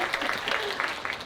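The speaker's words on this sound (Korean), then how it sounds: "김도영 배우님 여기서 박수 한번 쳐주실래요?" Audience clapping for actor Kim Do-young at a film Q&A event, a brief, moderately faint round of applause from a seated crowd with a voice partly over it.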